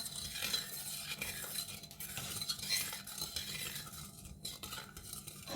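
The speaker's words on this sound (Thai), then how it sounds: "คนให้ผงวุ้นจนกว่าผงวุ้นจะละลายแล้วเราก็ เอาไปต้มต่อนะคะ" Agar powder being stirred in a pot until it dissolves, with a steady scraping and swishing of a utensil against the pot and light metallic clinks, close and continuous, no talking.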